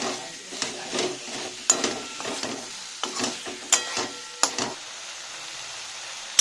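Biryani masala and tomato being stirred in a pan, with a spoon scraping and clacking against the metal in irregular strokes over a soft sizzle; near and alone, with no voices.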